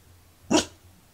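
A puppy gives a single short, sharp bark at moderate volume indoors, standing alone against a quiet background.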